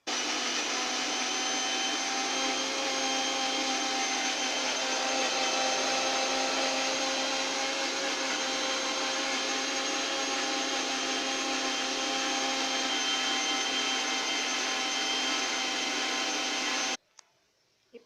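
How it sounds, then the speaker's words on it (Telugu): A kitchen mixer grinder grinds onion and garlic with a little water, a loud steady close whine running unbroken for about seventeen seconds before stopping abruptly. "మిక్సీ గ్రైండ్ చేసుకుని పక్కన పెట్టుకుందాం."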